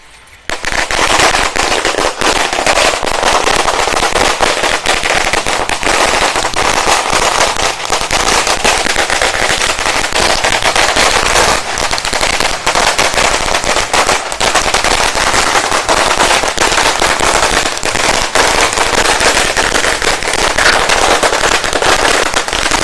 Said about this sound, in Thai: เรากำลังจะจุดประทัด นะครับ จุดประทัดกันนะ